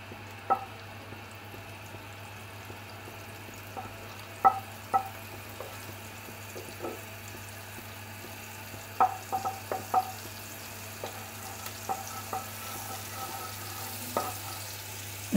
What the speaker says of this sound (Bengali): আমার কড়া গরম হয়ে গেছে, এর মধ্যে দিয়ে দেব আমি টুকরো করা বাটারটা